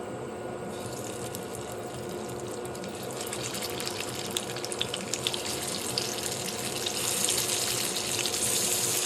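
Chicken shami kebabs shallow frying in a pan of oil, a steady hissing sizzle that swells louder toward the end, with scattered crackles and no talking.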